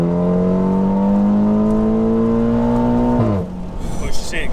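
A tuned Volkswagen Scirocco R engine drones steadily and loudly with a deep exhaust rumble, then cuts off abruptly into quieter road and wind noise.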